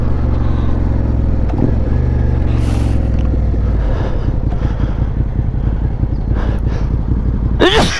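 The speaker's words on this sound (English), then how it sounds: "This bike sounds so beautiful." A Suzuki SV650 motorcycle on an early morning ride, its engine loud and close throughout with a throbbing, pulsing note that shifts in pitch as the throttle changes, and wind rush on top.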